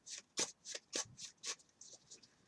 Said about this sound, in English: You're going to shuffle